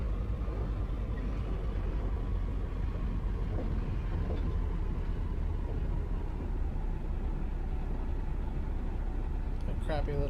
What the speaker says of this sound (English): A crappy little bus.